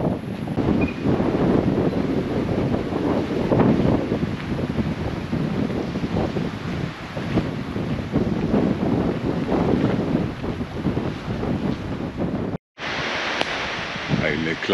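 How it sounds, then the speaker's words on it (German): Gusty wind rumbles and buffets the microphone throughout in southern New Zealand's Fiordland, with a brief dropout near the end before the blustery roar resumes. "Wie man sieht, ist es ganz schön windig da draußen."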